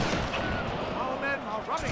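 Musket volleys from the battlefield game Pike and Shot, a dense wash of distant crackling gunfire under a busy battle ambience.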